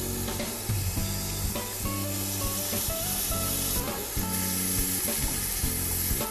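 Small slices of meat pan-fry in a hot pan after soy sauce is added, giving a continuous crackling sizzle with occasional stirring scrapes beneath a steady tonal, music-like background, and no voices.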